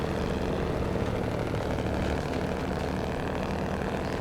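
Truck engine in SnowRunner running steadily, a loud continuous low rumbling drone with no change in pitch, alone without talk.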